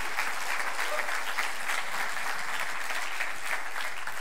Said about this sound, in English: Give Daniel a big round of applause